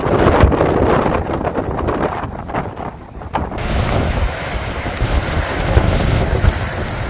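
Large storm waves surge and crash against a coastal shore as a typhoon strikes the UK, a loud continuous roar of surf mixed with heavy wind buffeting the microphone, with no break in the noise.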